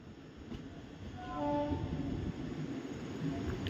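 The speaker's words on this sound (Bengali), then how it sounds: "ট্রেন ছেড়ে যাচ্ছে আজিমগঞ্জ স্টেশন।" A train pulling out of Azimganj station, a steady low rumble that swells as it moves, with a brief faint horn-like tone partway through, heard from inside the carriage.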